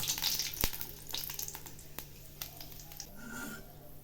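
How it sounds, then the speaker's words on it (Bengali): Soft crackling and sizzling of peanuts frying in hot oil, with a few sharp pops and faint stirring, close by and fairly quiet. "তেল গরম হয়ে গেছে। এখন এর মধ্যে আমি 20-25টা বাদাম ভেজে নিচ্ছি।"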